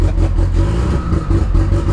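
A turbocharged car engine revving up close, a loud sustained rumble with rising and falling pulses of throttle running through the whole stretch, no voices over it.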